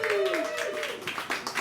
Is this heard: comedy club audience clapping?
yes